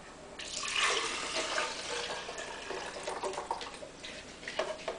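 Water is poured into a blender holding soaked junk mail for papermaking, a splashing, gurgling pour that swells early and then continues in uneven trickles and splashes, close, with no voices.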